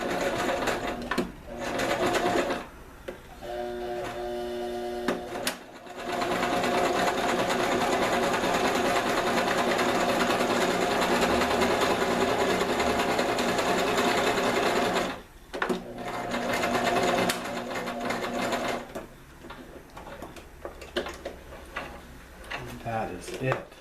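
A sewing machine runs a straight stitch on a homemade foraging bag, a steady loud mechanical whir in long runs broken by short pauses, with brief speech around the stops.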